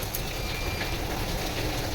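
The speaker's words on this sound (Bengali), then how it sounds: "আর বাইরে এত বৃষ্টি হচ্ছে" Heavy rain falls outside as a dense, even hiss that holds without letup, heard from indoors near a kitchen.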